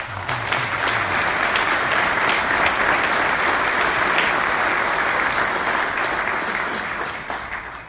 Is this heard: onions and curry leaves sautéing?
no